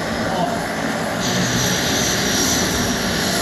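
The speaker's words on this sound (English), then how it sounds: "This is a serious amount of seaplanes" Trans Maldivian Airways seaplane propeller engines at a seaplane base in the Maldives, a loud, steady droning roar that fills the whole stretch without pause.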